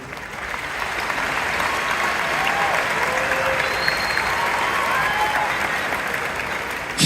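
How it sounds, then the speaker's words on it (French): An audience in a hall applauds continuously, a dense clapping wash that holds steady at fairly loud level for several seconds with faint whistles or cheers mixed in. "Je voudrais qu'on applaudisse pour Philippe Simon"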